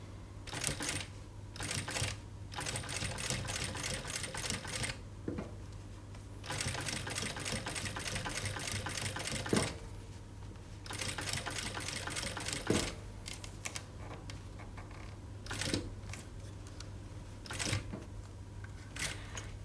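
Sewing machine stitching bra cups onto a top base, with bursts of rapid close mechanical clatter separated by short pauses, several runs of stitching at varying lengths, fairly quiet and free of speech.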